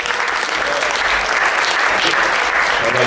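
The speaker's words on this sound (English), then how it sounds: "One more round of applause for my colleague Nathan Tanoe" An audience at a Latin jazz ensemble concert breaks into steady, loud applause, dense clapping holding evenly for the whole stretch with a faint murmur beneath.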